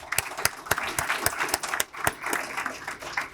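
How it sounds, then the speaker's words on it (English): A conference audience at a Kansas University cybersecurity panel claps, with sharp individual claps standing out over a steady wash of applause throughout. "So let's give them all a round of applause."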